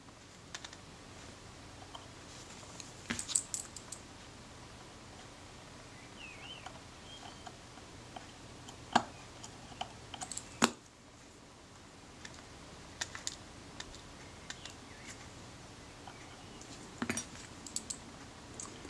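Small metal screws being driven into a Kodak Retina IIa camera with a screwdriver, heard as faint, sparse clicks and ticks with occasional sharper metallic taps against a quiet background.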